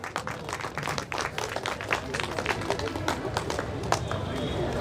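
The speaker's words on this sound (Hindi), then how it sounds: "जोरदार तालियां।" Loud, uneven applause at a festival for a performing team, with sharp individual claps standing out over a busy crowd and voices mixed in.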